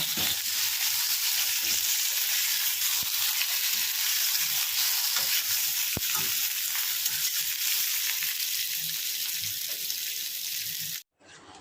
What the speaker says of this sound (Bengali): এগুলোকে হালকা একটু তেলে নেড়ে চেড়ে নিয়ে তারপরে বাঁধবো